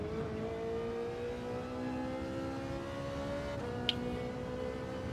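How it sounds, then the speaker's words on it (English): Ferrari 458 engine in the Gran Turismo 7 racing game, a high-pitched, steadily rising rev that holds and then drops at a gear change, with a brief click near the end, fairly quiet and without talk. "Oh, it's very highly revving, isn't it? The old 458."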